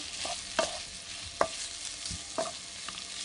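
Lamb, beef, half a sweet pepper and a whole onion frying in a pan, a soft continuous sizzle punctuated by several distinct utensil clinks and scrapes as the mixture is stirred, with no voices.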